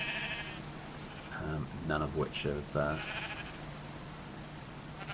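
Shorn sheep in the video game Minecraft bleat several times in a short cluster near the middle, fairly close, while a person talks over them.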